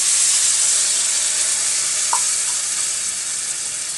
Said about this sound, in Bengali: আর এই কাপেরই আমি দুই কাপ জল দেব এই যে এক কাপ দিয়ে দিলাম